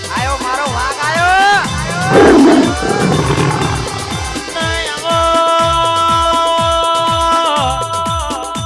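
Big-cat tiger roar sound effect bursting out near the start of a devotional song, loud and growling, followed by driving rhythmic music with singing.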